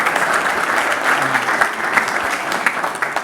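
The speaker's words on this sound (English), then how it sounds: "That was an easy clap." Summit audience breaks into steady, loud applause filling the hall for several seconds, many hands clapping together with no talking over it.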